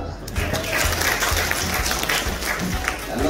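An audience claps at an official opening ceremony of the religious affairs ministry's regional office in West Kalimantan. The applause is a continuous, fairly loud wash of clapping that lasts the whole stretch.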